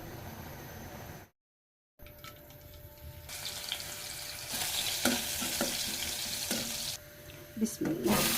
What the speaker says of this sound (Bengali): এখন লাউ শাক ভাজি করব